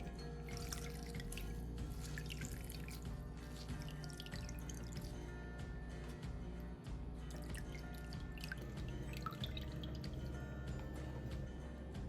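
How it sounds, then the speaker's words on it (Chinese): Water drips and trickles quietly as soaked preserved mustard greens are squeezed dry by hand in a kitchen. The faint, irregular patter sits over a steady low hum. "将浸泡后的梅菜挤干"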